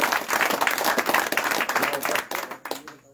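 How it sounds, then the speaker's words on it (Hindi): A crowd at a village election rally breaks into loud applause for the party, dense clapping that carries on, then thins and fades out near the end. "इसलिए एक बार पार्टी के लिए भी जोरदार ताली"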